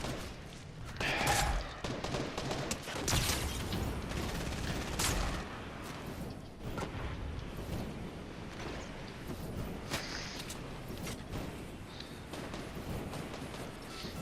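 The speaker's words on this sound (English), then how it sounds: "Where's all this gunfire coming from?" Gunfire in a video game crackles as dense, rapid bursts of shots mixed with mechanical clatter, continuing throughout the stretch at a moderate, steady level.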